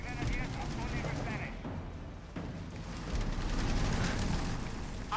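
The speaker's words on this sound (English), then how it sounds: "Artillery!" Artillery and gunfire rumble through a Company of Heroes 3 battle at Gazala, a dense, continuous barrage of booms and shots at steady loudness with a sharper burst near the end, under shouted unit voices.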